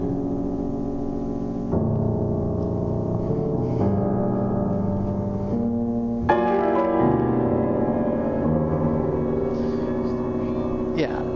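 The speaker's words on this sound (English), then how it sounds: "This is the sound of knotted fields." A recorded piece of music plays back in a lecture hall during a physics colloquium: layered sustained tones shift through several chord changes at a steady level, with no talking over it.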